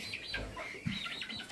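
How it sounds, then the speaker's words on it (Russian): A hen and a rooster inside a shed give soft chirps and a few short clucks, fairly close, over a faint ambient background. "И здесь вот 1 курочка и петушок."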